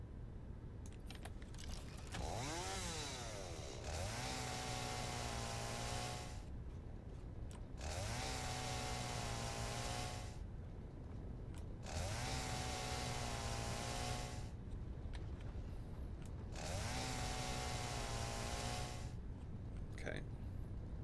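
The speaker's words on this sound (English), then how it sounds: "let's get the chainsaw out again" A chainsaw in a small workshop factory revs up hard in four long bursts, each climbing in pitch and holding a loud, droning snarl, with brief quieter gaps between runs.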